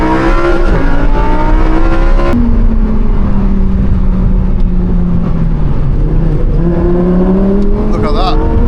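A Lamborghini Huracan Performante, a V10 supercar, drives through a bend with a loud, close engine drone that drops and then rises again as it accelerates, heard from inside the cabin along with brief talk.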